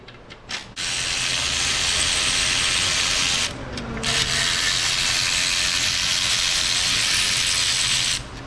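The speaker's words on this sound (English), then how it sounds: "Let's start pulling the bolts that hold the cover to the block." Steady, loud mechanical whir of a power ratchet backing out bolts that hold an engine cover to the block on a Hyundai Elantra, running continuously with a brief pause, close by.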